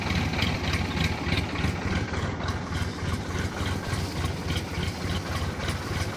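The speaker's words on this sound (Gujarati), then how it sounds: "ટ્રેક્ટર આવી જાય હવળા હવળા આગળ" A tractor engine idles and creeps slowly forward on a rural farm in Gujarat, a steady low chugging throb with a regular pulse, close and alone.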